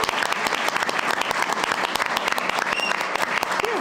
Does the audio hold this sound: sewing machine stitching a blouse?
no